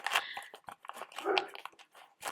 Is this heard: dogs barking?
yes